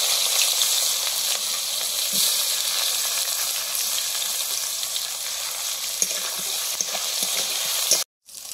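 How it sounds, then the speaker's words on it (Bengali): Chopped onions frying in hot oil, a loud, continuous hissing sizzle close by that holds steady for several seconds before cutting out abruptly. "এবার দিচ্ছি পেঁয়াজ কুচি"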